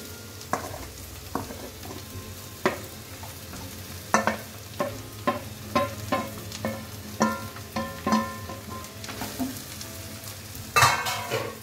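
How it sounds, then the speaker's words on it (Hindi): Potato-stuffed kachoris fry in bubbling hot oil, a continuous sizzle broken by a regular series of sharp utensil taps and scrapes, with no one speaking. "गोल्डन गोल्डन दम में इसमें उबाल आ रहा है तेल में"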